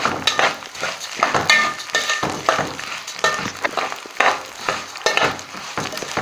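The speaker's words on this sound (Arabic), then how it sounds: "هحمر معاكم الرز" Rice frying in a pot for an Egyptian home meal of beans, meat and browned rice: a close, busy sizzle broken by repeated scraping stirs of a utensil against the pot, with no speech.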